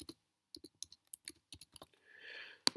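Sharp computer mouse clicks while working in QGIS mapping software, several crisp clicks spread across the moment including a quick pair, followed by a soft hiss and one final loud click, close and clear with no talking.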